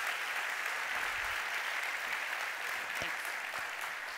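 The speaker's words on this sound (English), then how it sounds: "Give this woman a round of applause for pushing." Steady applause from an audience at a talk on employee mental health, a dense even wash of clapping that holds throughout at moderate level.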